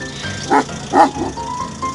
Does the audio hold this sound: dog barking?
yes